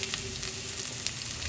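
Steady crackling and popping of mustard seeds spluttering in hot oil, a continuous close sizzle with small sharp pops scattered throughout.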